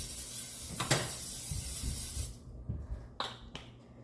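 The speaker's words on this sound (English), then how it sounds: "get your olive oil, shake it up, open it, give it a little spray" A close, steady hiss of aerosol olive oil cooking spray lasts about two seconds, then cuts off, leaving a few faint clicks and light handling noises.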